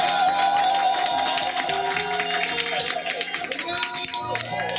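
A congregation at a morning prayer gathering claps in a steady rhythm to acclaim the Lord, with voices and music running beneath the continuous applause.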